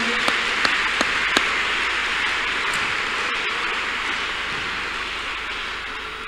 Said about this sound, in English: Shall we clap unto God and appreciate him?